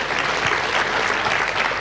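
A church congregation applauds God during a worship service, a loud, continuous roar of clapping hands filling the room for a brief stretch.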